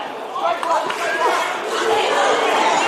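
A crowd at a bloody fight roars and shouts continuously, a loud, dense wash of cheering voices with no pauses.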